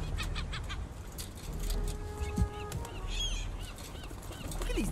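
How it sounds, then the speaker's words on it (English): Geese-like birds honk in the video game Concrete Genie, several harsh, scattered calls at moderate distance over steady background ambience. "Dumb birds."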